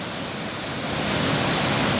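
Big ocean waves from a heavy swell break at El Socorro beach on Tenerife's north coast, a dense continuous roar of surf that swells louder toward the end, with no voices.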